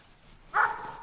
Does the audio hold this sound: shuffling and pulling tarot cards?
no